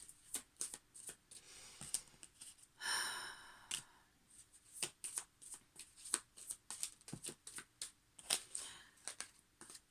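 Tarot cards being shuffled by hand in quiet repeated bursts of crisp riffling and slapping, with a soft sigh partway through and no talking.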